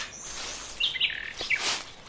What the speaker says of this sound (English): Hey, that looks like a new bird.